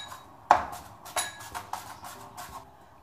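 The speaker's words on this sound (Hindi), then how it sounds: "सबसे पहले मैं प्याज को ये ऐसे चॉप करना" A kitchen knife finely chopping onion on a board while preparing an egg and besan omelette: a run of irregular, close, sharp taps and clacks, with one harder knock near the start.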